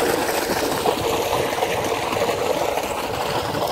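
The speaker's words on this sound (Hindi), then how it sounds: "ज़मीन से पानी होता हुआ नीचे से आ रहा है, ये ऊपर की तरफ टैंकी में" Water from a solar-powered tube well pump pours steadily into a storage tank on a farm in Pakistan, a continuous broadband rushing and splashing at constant loudness with no voices.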